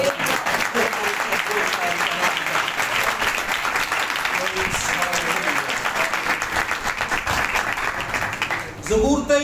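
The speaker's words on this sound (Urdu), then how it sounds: "زوردار تالیاں" A church congregation at an Urdu/Hindi service gives loud, sustained applause, a dense wash of many hands clapping at once that fills the room before cutting off near the end.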